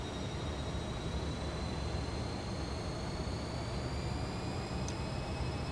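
F-28 jet engines spooling up toward full thrust for takeoff in MSFS 2024: a dense, steady roar with a constant rushing hiss and faint rising whine, loud and unbroken throughout.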